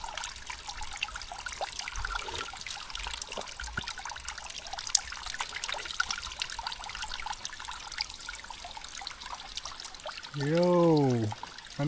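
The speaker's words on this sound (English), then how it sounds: "Spring is coming off the other side, guys. Some of them just a drip, some of them are run heavy." Mountain spring water trickling out of the ground in a Jamaican hillside community, a steady faint dribble heard up close, with a brief louder rushing sound near the end.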